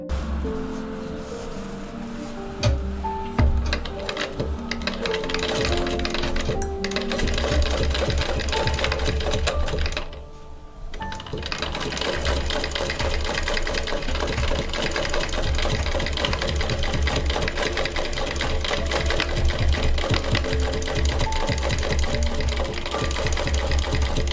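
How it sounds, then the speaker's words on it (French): Near-continuous loud, close whirring of a sewing machine stitching a hem, with rapid mechanical needle chatter that pauses briefly partway through before resuming, and no talking. "je vais coudre cet ourlet là"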